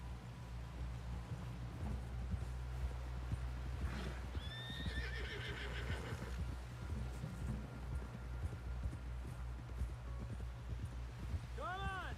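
A horse in Red Dead Redemption 2 clip-clops steadily on hooves while a quavering whinny rises midway and another neigh comes near the end, over a low constant rumble with voices talking.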